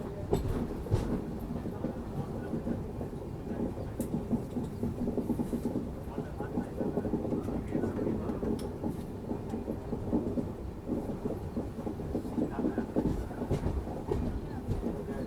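The 16004 Nagarsol–Chennai Central Weekly Express runs on the Guntakal–Raichur–Wadi line with a steady, continuous low rumble and clatter of wheels and carriages. The sound is close and even for the whole stretch, with no clear voices over it.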